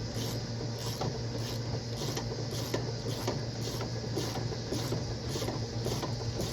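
Steady mechanical ratcheting on the track adjuster bolts of a Yamaha SX Viper 700 snowmobile, an evenly paced series of clicks repeating about twice a second against a constant low hum, close and continuous, with no talking.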